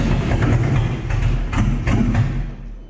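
A drift car with a swapped 3.8 engine and custom exhaust runs loud and close, a rough low rumble with uneven thumping pulses throughout, fading slightly at the end.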